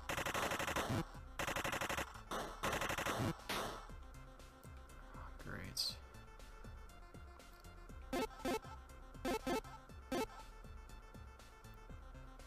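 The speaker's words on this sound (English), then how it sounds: "Machine gun arm" Machine-gun arm firing in a video game, bursts of rapid automatic fire, loud and close, in several separate volleys with short pauses, followed later by scattered single shots and quieter game sounds.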